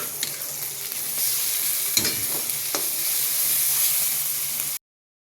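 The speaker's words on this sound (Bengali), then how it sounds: "এখানে খিচুড়ি করার জন্য আমি ডালটা সটে করব।" Lentils sautéing with turmeric powder and garlic paste for khichuri, a steady close sizzle and frying hiss with a few stirring scrapes, no talking.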